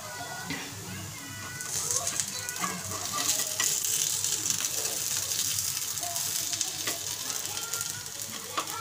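Corn appe are turned over in a hot frying pan, a continuous close sizzle of frying broken by a few light scrapes and clicks as each one is flipped.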